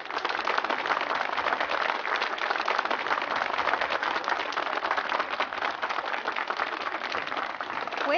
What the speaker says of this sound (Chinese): 让我们以热烈的掌声欢迎新郎新娘的父母上台